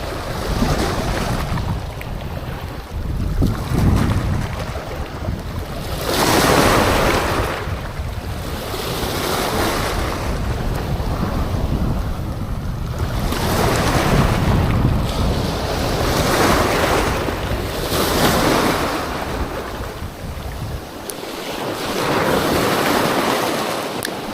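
Ocean waves surge and break in slow repeated swells, with steady wind rumbling across the microphone throughout; no voices.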